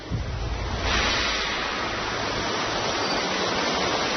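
Heavy torrent of water plunging down a roughly 40-foot drop in a steep, mossy jungle canyon in Sumatra, a continuous loud broadband roar with no pauses, close and steady throughout.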